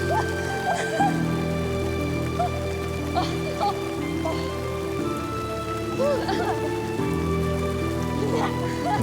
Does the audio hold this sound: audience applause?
no